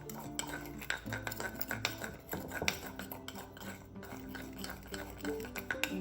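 A spoon scrapes and clinks against a bowl while seasoning spices for a whole chicken are stirred together, producing irregular light taps and rattles at close range, quiet overall with no talking.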